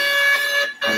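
A loud, steady electronic buzz from a quiz contest buzzer at a school German spelling bee, checked one by one, holds its tone, breaks off briefly, then resumes.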